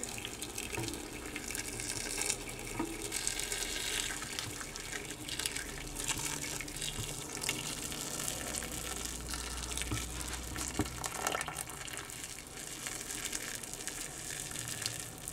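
About 1.5 litres of water pour steadily into a hot barbacoa pot already holding seasonings. The stream runs continuously as a close, full gush without a break, with no voices over it.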